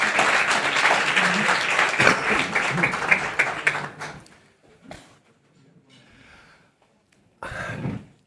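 A forum audience gives sustained applause for speakers on stage, a dense wash of clapping that tapers off after about four seconds, followed by quiet room noise and a brief voice.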